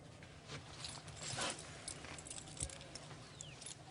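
A set of house keys, one big and one little, jangles faintly as it is handed over indoors, a brief soft metallic rattle against a quiet background.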